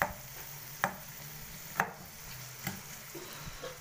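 Onions fry in ghee until they brown, giving a low, steady sizzle broken by a few sharp spoon clinks against the pot, with no voices.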